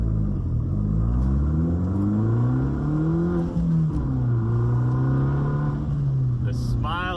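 A 2013 Fiat 500 Abarth pulls away from a stop sign, its engine rising in pitch through a gear, dropping at the shift and climbing again, loud and close inside the cabin while someone talks over it.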